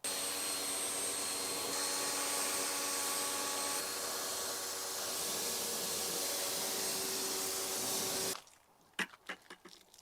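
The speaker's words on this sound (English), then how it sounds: "we're going to rinse this side off just so the soap doesn't dry onto the paint" A hose sprays water over a 1978 Ford F-100 Flareside truck to rinse off soap, a loud, steady close hiss that cuts off abruptly near the end, leaving a few faint knocks and drips.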